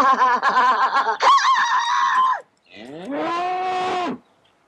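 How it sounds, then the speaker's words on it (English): Cow mooing loudly at close range in the countryside, two long drawn-out lowing calls separated by a short pause, with no talk over them. "What was that? Only a cow."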